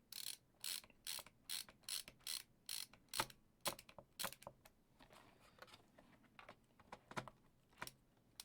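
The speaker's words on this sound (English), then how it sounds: "Let's get that screw in there." A screwdriver works a small screw into a Steam Deck's JSAUX replacement back plate, giving a run of quiet, rapid ratcheting clicks in short bursts with brief pauses, close by and alone.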